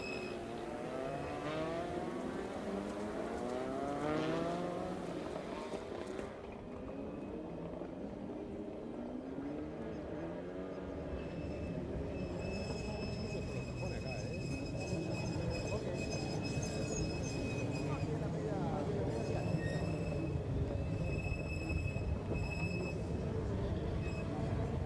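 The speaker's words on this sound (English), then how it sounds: "Here are the cars arriving to the grid." TCR touring race cars at the Rosario round of TCR South America roll onto the starting grid, a steady mix of engine drones and revving with shifting pitch, sustained throughout with a commentator talking over it.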